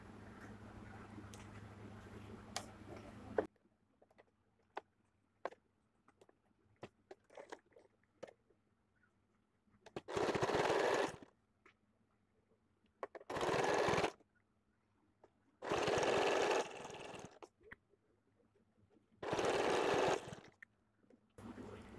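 A sewing machine stitches piping onto a side-zipper blouse in four loud bursts of a second or two each, separated by quiet stretches of fabric handling and faint clicks.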